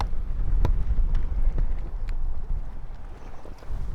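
Wind gusting beside a lake, a steady broad rumble of wind buffeting the microphone with a few soft knocks, loud and continuous for the whole stretch with no talking.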